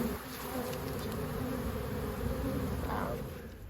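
Honey bees drone steadily during a beekeeper's hive inspection, a close, continuous buzzing that fills the whole moment with no talk over it.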